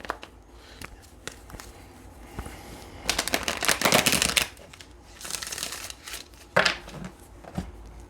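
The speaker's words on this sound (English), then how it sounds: "Let's get one more good shuffle." A deck of tarot cards is shuffled by hand in bursts of riffling and flapping, with soft taps and clicks between the louder shuffles, close up and without talking.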